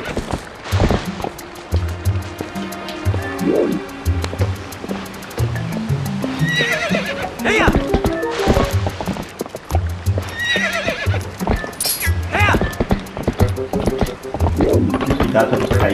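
Epona, the horse in the Zelda: Twilight Princess game, whinnies loudly several times amid rhythmic galloping hoofbeats, with game music and effects throughout and some speech layered over it.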